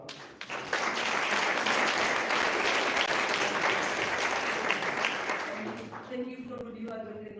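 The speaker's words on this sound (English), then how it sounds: "Please, round of applause." An audience at a women-in-business event breaks into loud, sustained applause that carries on for several seconds before thinning out as a voice begins speaking near the end.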